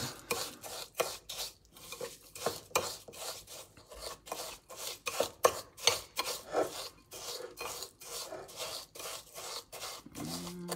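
A sugar and honey scalp scrub is stirred in a bowl, giving a quiet, repeated gritty rasping as the spoon scrapes through the granules in a steady back-and-forth rhythm, with no talk.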